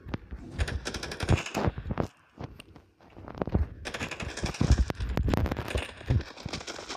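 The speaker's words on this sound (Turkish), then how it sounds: "Çıkmasın diye öyle mermiyle vuruyorum da." Gunfire in the mobile shooter game Standoff 2: rapid bursts of automatic fire in quick succession, loud and close, with a short pause before the shooting resumes.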